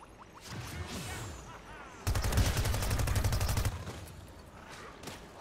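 A plant fires a machine gun in Plants vs. Zombies: Battle for Neighborville, a rapid, evenly spaced burst of shots lasting under two seconds, louder than the softer game sounds before and after it.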